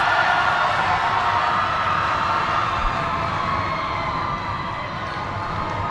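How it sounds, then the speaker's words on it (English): A basketball gym crowd cheers and shouts in a loud, dense roar that stays steady throughout, with no single voice standing out. "The crowd is definitely getting feisty. They are definitely loud up there."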